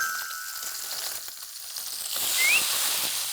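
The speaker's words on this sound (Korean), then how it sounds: "김치 볶는 게 그냥 볶는 게 아니에요" Kimchi stir-frying in hot oil in a pan, a steady hissing sizzle throughout that swells louder in the second half, with no voices over it.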